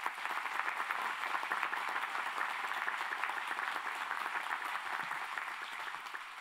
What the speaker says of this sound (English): Please help me appreciate them with a round of applause.